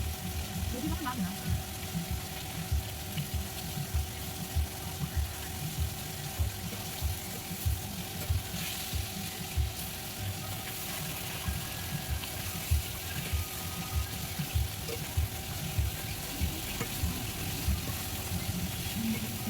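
Kharkol paste ingredients fry in a wok with a continuous sizzle and bubbling, a steady crackling hiss under a person talking throughout.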